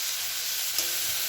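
Egg greens and small potato pieces fry in a pan with a steady, close sizzling hiss throughout, and one faint tap partway through.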